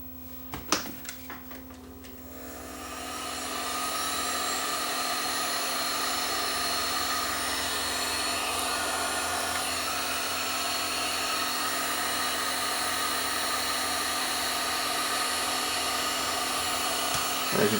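A hot-air gun spins up after a few handling clicks and then blows a steady, close whooshing roar with a faint hum, shrinking heat shrink tubing over a lamp lead assembly for a nixie tube clock.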